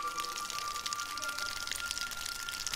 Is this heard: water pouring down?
yes